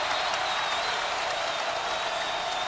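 Basketball arena crowd at a Pitt Panthers at West Virginia Mountaineers game cheering and applauding after a three-pointer, a dense, steady roar of many voices and clapping that fills the whole stretch without letup.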